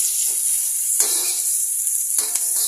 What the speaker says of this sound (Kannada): ನಾವು ಈರುಳ್ಳಿಯನ್ನು ಹಾಕೋಣ. ಈರುಳ್ಳಿ ಇನ್ನೊಂದು ಸ್ವಲ್ಪ ಫ್ರೈ ಆಗಲಿ.